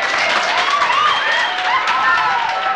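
A comedy audience bursts into sustained, dense applause mixed with loud whistles and cheering, a continuous wash of clapping filling the room.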